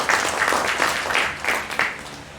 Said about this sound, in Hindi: कंप्यूटर की टीम, उनके लिए भी एक बार जोरदार तालियां हो जाए